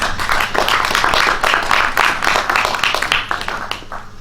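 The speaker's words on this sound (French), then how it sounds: "on peut peut-être l'applaudir aussi" Audience applause at a business workshop on the future of commerce, loud and close, dense rapid clapping from a group that holds steady for several seconds before tapering slightly at the end.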